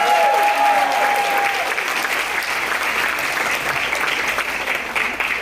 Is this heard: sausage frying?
no